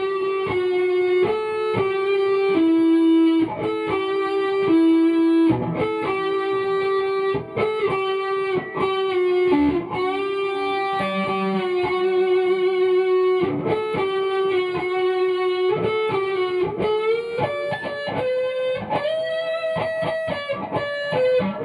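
A distorted electric guitar plays a melodic line with bends and slides, sustained and buzzy, heard alone and up close.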